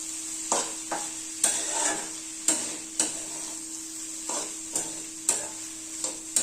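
A spoon stirring chopped coriander into a broad bean curry in a pan, scraping strokes repeating at a steady rhythm over a soft background hiss, close and moderately quiet.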